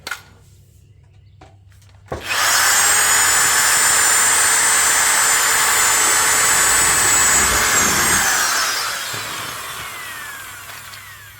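A power drill bores loudly through the rusty body panel of a 1990 Chevrolet Silverado, a steady high whine for several seconds before winding down and spinning to a stop.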